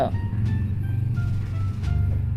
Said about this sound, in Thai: เสียงรถเด็กแว้น